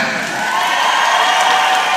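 A crowd cheers and applauds to vote for a small mixed-breed Pomeranian dog at a dog event, a loud, steady wash of clapping and voices filling the whole moment.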